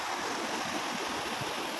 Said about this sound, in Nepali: सो यो चाहिँ हो खोला